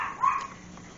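A pet dog gives a short, sharp yelp that trails into a whine, a single brief outburst close by inside a house.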